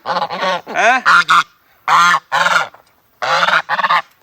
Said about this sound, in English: Goose, why are you yelling at me?